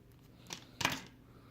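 Scissors snipping through a USB cable instead of wire strippers, giving two short, close crunching cuts in an otherwise quiet moment.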